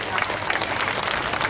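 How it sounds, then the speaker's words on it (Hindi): A crowd of women at a chief minister's community gathering bursts into dense, steady applause, loud and continuous, with voices mixed faintly underneath. "ताली बजाओ अपने आप के लिए"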